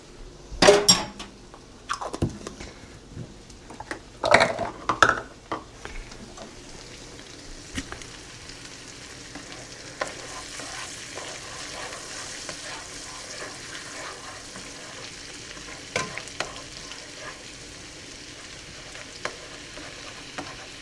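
Garlic fries with seared steak bites in a pan, a steady low sizzle running throughout while a utensil scrapes and clanks against the pan in loud bursts, then quieter occasional stirring taps.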